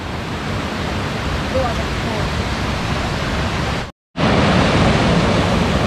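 Continuous rushing water from a clean river near Gabaldon Falls, a broad steady roar, loud and close, briefly cutting out before resuming.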